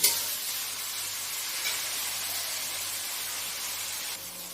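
Jute leaves with three green chillies fry in oil in a pan, giving a steady, even sizzle and hiss that runs unbroken throughout, with no voices.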